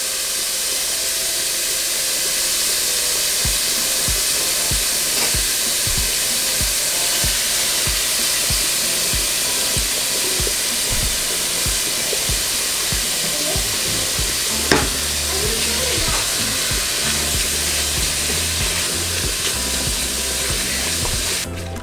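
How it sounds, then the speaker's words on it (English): Bacon and chorizo fry together in a pan for frijoles charros, giving a loud, steady, continuous sizzle with no voices. "So we're going to put the bacon in the chorizo."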